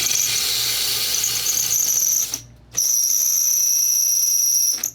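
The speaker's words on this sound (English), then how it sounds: "why is that squealing like that?" Spinning part on a Simplicity SunStar riding mower squealing loudly, a sharp high continuous whine that drops out briefly and returns, close up over a low mechanical hum.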